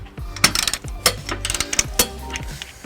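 A socket wrench ratchets in short bursts of quick metallic clicks as a 19mm socket tightens a stud while a trailer hitch is fitted to a 2003 Chrysler Town and Country. The clicks are close, with brief pauses between strokes.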